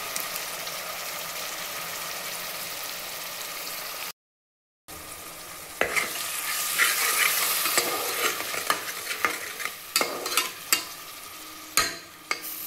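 Onion and spice paste fries in a pressure cooker for egg biryani, a close, steady sizzle broken by a brief gap, then scraping stir strokes and clinks of a spoon against the pot.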